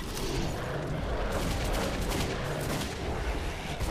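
Dense, continuous gunfire in the post-apocalyptic shooter Metro 2033 Redux, loud overlapping shots and blasts forming an unbroken roar for several seconds.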